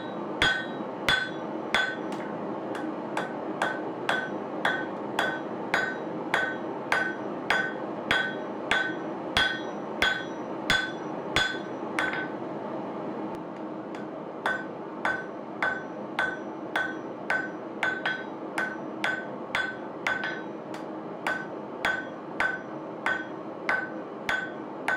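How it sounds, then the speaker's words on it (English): Hammer forging the flat body of a steel chisel on an anvil, a steady run of loud, ringing metallic strikes at an even pace, close up and alone. "Now I'll flip it around and forge a flat section for the body of the chisel itself."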